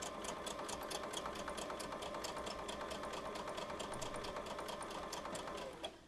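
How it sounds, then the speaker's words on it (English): A sewing machine runs steadily, stitching along the edge of quilt pieces with a fast, even needle rhythm that continues unbroken for several seconds before easing off right at the end. "we're just going to sew right along this edge"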